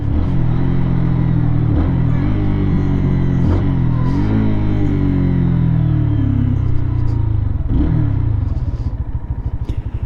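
A brand-new, fuel-injected Lifan KPM 200 motorcycle rumbles through its quiet exhaust on a break-in ride, a steady low engine drone that rises and falls with throttle changes and gear shifts.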